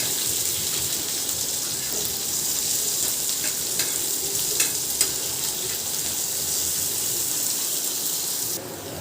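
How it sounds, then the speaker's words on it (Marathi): Finely chopped onion fried and stirred on a flat griddle while making pithale, producing an even, steady sizzle with occasional faint utensil taps, close and consistent throughout with no speech. "यामध्ये मी आता कांदा घालते, बारीक चिरलेला कांदा सुद्धा छान परतून घ्यायचा आहे।"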